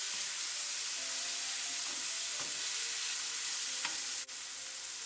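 Crumbled paneer is stirred in a hot pan, a quiet, constant sizzling hiss broken by a few soft scraping strokes of the spoon.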